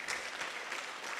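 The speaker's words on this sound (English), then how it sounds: "Yeah, please clap for him." Audience at a SACCO member education day clapping steadily in a dense, continuous patter that sounds a little distant and carries no voices.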